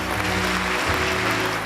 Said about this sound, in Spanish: ¿Cuántos pueden darle un aplauso al Señor?